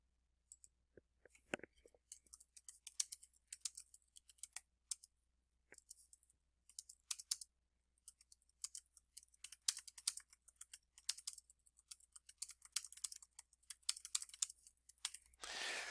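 Fingers type a comment on a computer keyboard, a fast run of light plastic key clicks in irregular bursts with short pauses, close and alone with no voices.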